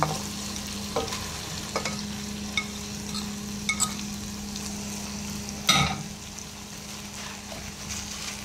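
Bamboo shoots (labong) sautéing in a pan with coconut milk, a close, steady sizzle broken by sharp stirring clacks and scrapes, with one louder clatter partway through.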